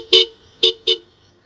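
Horn of a rebuilt Yamaha RX135 motorcycle sounds three short, loud honks, the first two spaced apart and the last two close together, each a bright two-tone beep with no talk.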